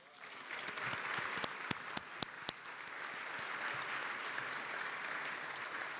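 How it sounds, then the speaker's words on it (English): Applause for table sponsors at an environmental awards celebration: a room of people clapping steadily for several seconds, with a few sharp louder claps early on and no talk over it. "now is the time for you to applaud for all of those table sponsors"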